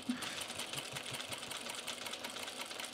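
A sewing machine with a buttonhole attachment stitches a buttonhole on a pair of Ames jeans, its rapid, even needle chatter running steadily and fairly quietly for the whole stretch.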